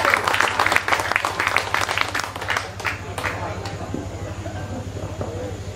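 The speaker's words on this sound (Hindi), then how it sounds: "इसलिए जोरदार ताली बजाइएगा।" Audience clapping at a Hindi poetry recital, a loud, dense burst of applause that fades over several seconds under a steady low hum, with a voice speaking near the end.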